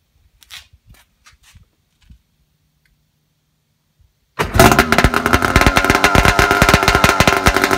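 A Sea-Doo jet ski, an old Facebook Marketplace rebuild, sits quiet with a few faint clicks before its engine suddenly fires and roars loudly, running steadily close by.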